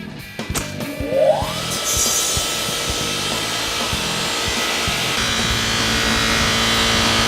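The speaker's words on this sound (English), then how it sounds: "We have a polisher to make it look real pretty like you see in a movie" A polisher spins up and runs steadily against sanded wood, rising in pitch as it starts and then holding a loud, continuous whirring rub, close and without any talking.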